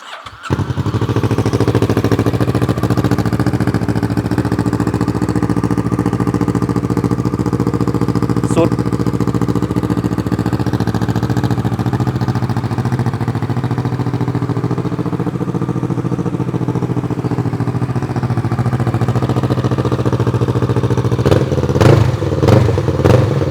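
A 2017 Kawasaki Z650 motorcycle fitted with an Akrapovic full-system exhaust, loud and close, starting with a thump and then holding a steady, deep idle for about twenty seconds before a few short rev blips and clatter near the end.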